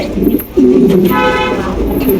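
A pair of pigeons in a loft gives low, rolling coos, loud and close, with a sustained throaty call in the middle and no talk over it.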